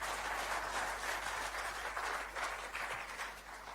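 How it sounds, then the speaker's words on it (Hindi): Applause from an audience at a seminar, a faint, distant patter of many hands clapping that continues evenly for a few seconds. "तालियां एक शानदार इनके लिए होनी चाहिए"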